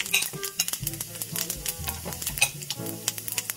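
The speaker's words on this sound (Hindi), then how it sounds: "ये देखिए जब तक जीरा भुन रहा है" Whole cumin seeds fry in smoking-hot desi ghee for Punjabi Pindi chole, giving a steady, close sizzle broken by repeated scraping stirs of a spoon against the pan.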